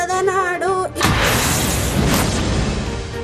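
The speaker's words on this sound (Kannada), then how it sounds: "ಪಟಾಕಿ ಸಿಡಿಸಿ ಸಂಭ್ರಮಿಸಿದ್ರು" Firecrackers burst at a local celebration with officials present, a sharp loud blast followed by a dense crackling roar of explosions that continues, after a brief moment of voice.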